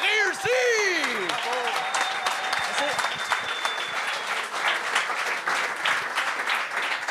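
Game-show studio audience applauds and cheers loudly, dense clapping sustained throughout, with voices shouting and talking over it at the start.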